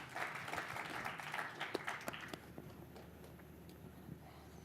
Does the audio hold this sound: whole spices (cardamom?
no